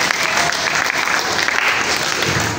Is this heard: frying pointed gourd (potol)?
no